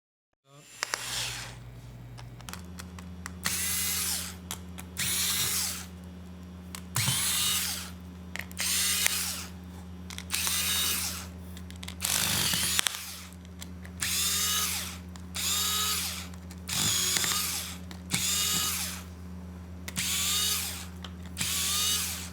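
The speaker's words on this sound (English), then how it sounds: "Remove screws." A power screwdriver backs screws out of a Dell 3100 laptop palmrest. The whirring comes close and loud in about ten short bursts with brief pauses between, over a steady low hum.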